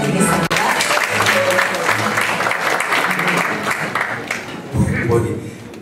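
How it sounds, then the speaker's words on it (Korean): Audience applause at an awards ceremony in a National Assembly conference room, steady dense clapping filling the room throughout, with voices murmuring and speaking over it toward the end. "큰 박수 부탁드리겠습니다"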